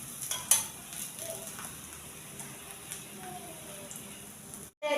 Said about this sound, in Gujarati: તળવા માટે થોડું નીચું કરી દઈશું. તે થોડું નીચે સુધી આપણું તેલ પહોંચી જાય.